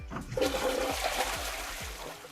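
A toilet flushes with a rushing, gurgling swirl of water that stays loud and steady through the whole moment, with no voices.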